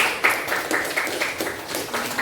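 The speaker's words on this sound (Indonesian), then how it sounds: "Oke, tepuk tangan untuk kelompok 6." A classroom of students claps together for a group, giving a short burst of dense, fairly loud clapping that runs the whole time.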